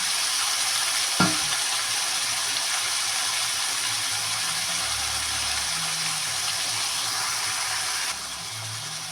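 Onions and green chillies fry in oil for a spiced fish dish, giving a steady, close, continuous sizzle and hiss with one quick utensil clink near the start and no talking.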